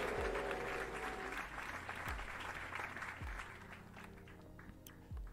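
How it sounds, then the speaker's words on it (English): Studio audience cheering and applauding for a late-night talk show guest's entrance, a dense, loud continuous roar of clapping and whoops that tapers slightly toward the end. "click the cheering noise"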